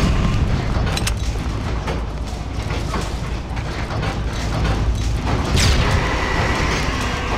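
Grenade blasts in the video game BloodRayne: Terminal Cut, heavy booms rolling over a dense, continuous wall of rumbling game noise with clattering mechanical sounds, no voices.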